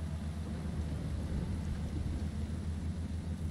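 Steady rain in a Forza Horizon 5 race, a dense, constant hiss spread evenly over a low engine rumble, with no break or change across the stretch and no talk.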